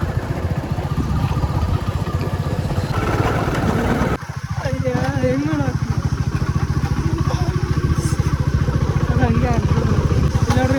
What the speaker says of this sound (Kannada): ಟ್ರಾಕ್ಟರ್ ಬಂತು ಟ್ರಾಕ್ಟರ್ ಬಂತು